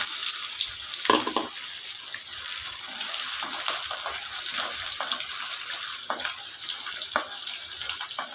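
Small onions frying in oil in a pan for chicken chintamani make a continuous close hiss and sizzle, broken by occasional sharper crackles and stirring clatters.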